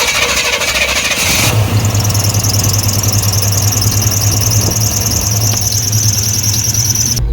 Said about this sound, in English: We about to fire this thing up though and see how this carburetor runs.